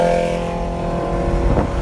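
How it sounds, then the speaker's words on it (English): A motorcycle engine drones close by as it passes, a steady mid-pitched hum that shifts and rises slightly near the end, with no talking over it. "hello, motorcycle guy"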